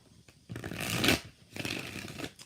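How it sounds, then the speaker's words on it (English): Two quick bursts of tarot cards being shuffled, a crisp riffling rush followed by a short pause and a second shuffle, close and clear. "One more shuffle."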